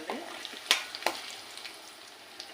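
Mustard seeds, bay leaf, green chili and cumin sizzle in hot oil as the base for an egg masala gravy curry. A soft hiss carries two sharp pops of crackling seeds, close up, with no voices.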